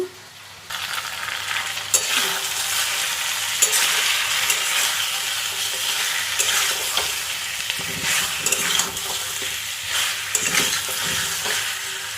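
Mutton being sautéed in a pan for a curry, giving a steady, close sizzle and fry with stirring and scraping throughout, with no talk.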